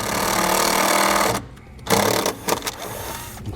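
A drill starts a hole in a metal panel while a Firestone Air Command air compressor is being installed, a loud steady whine for about a second and a half before stopping, followed by a few short bursts and clicks.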